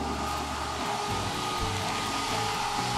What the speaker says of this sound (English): While inflating, you want to make sure that nothing is covering the fan or the blower